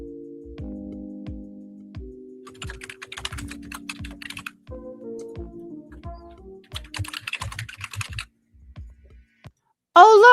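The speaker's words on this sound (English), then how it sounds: "When Brittany is actually typing, you can hear it." Rapid clicking keystrokes on a computer keyboard in uneven bursts, over a low steady hum, ending with a brief loud noise.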